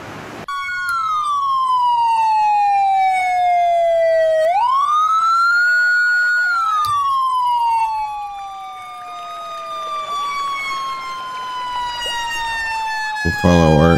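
A wailing ambulance siren from the Emergency 4 game with the Fairbanks Alaska mod sweeps up and down loudly, shifting into a rapid yelp pattern midway, with layered tones from other emergency vehicles and no talking.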